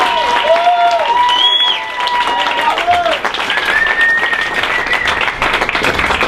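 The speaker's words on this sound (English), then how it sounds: "Clap it up for Robert Field." A comedy club audience claps for a stand-up comedian coming to the stage, a loud sustained round of applause with whoops and voices mixed through it.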